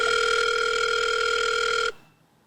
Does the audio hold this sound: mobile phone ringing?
yes